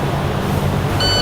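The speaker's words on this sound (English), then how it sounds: "now we're up in the cab, and you can hear that alarm going off" A truck cab's low air pressure alarm sounds in an enclosed cab while the air tanks are drained, a steady high-pitched tone that starts near the end over a low engine idle hum.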